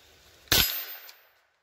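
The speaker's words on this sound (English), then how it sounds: "All right, first shots." A single sharp crack from a .22 LR rifle (Mossberg or Rossi) fed from a 25-round Promag magazine, a loud close shot that rings out and fades over about a second.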